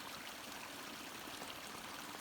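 A woodland stream flows among trees, a steady, even rush and gurgle of running water that holds at moderate level throughout with no voices.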